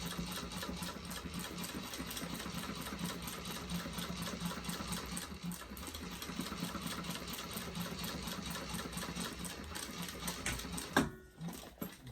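A sewing machine runs a steady, close stitching rattle while base stitching backpack panels, continuing for a long stretch before stopping near the end.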